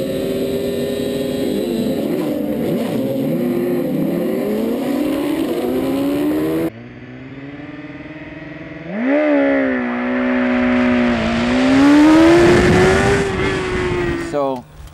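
A motorcycle launching off the line with traction control on, its engine revving up loudly and climbing in pitch as it pulls away, after a stretch of idling.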